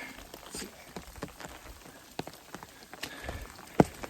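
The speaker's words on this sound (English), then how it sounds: "Well, the rain didn't hold off. It's coming down again." Rain patters steadily on surfaces nearby on the Appalachian Trail, a soft irregular drumming with occasional louder drops, and no voices.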